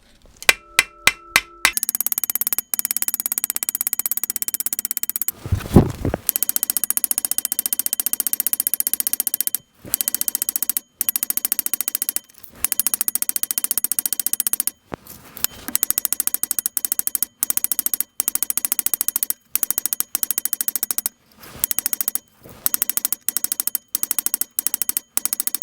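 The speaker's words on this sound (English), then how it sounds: "I'll start off with the ball peen." A ball peen hammer pounds a piece of copper cut from scrap water pipe. The strikes come as a long run of sharp, close metallic hits, broken by short pauses.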